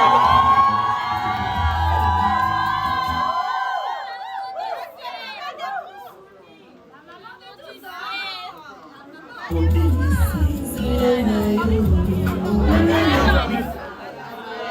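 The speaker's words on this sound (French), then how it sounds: "si nous pouvons acclamer pour cette grande dame" A theatre audience at a certificate-awarding ceremony cheers and acclaims a woman being honoured, breaking into a loud, dense burst of shouting and chatter after a quieter stretch with music.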